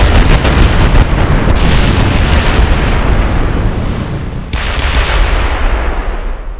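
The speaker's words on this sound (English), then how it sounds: "Explosion on the runway." Rocket explosion on the launch runway in the video game Kerbal Space Program: a loud, sustained roaring blast with dense rumble filling the whole span, briefly easing near the end before surging again.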